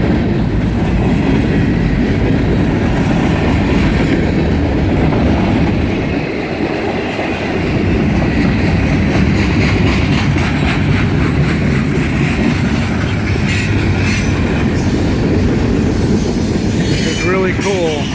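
Train wheels roll steadily along the track inside a moving freight-style train with no caboose, a loud, constant rumbling roar with rhythmic clacking and occasional metallic squeals, close and unbroken throughout.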